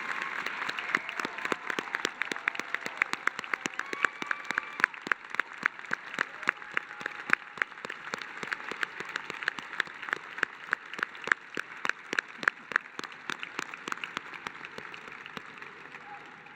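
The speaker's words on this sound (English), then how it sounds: "let's give a big round of applause to all of the seniors who earned a special cord, medallion, or sash" A graduation audience applauds seniors who earned cords, medallions or sashes at an Ida B. Wells-Barnett High School ceremony, sustained crowd clapping with a hall echo, fairly faint and steady for the whole stretch.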